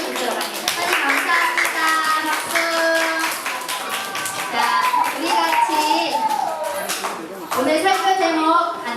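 Children at a Sunday school church service clap along in a steady patter beneath loud voices speaking and singing throughout.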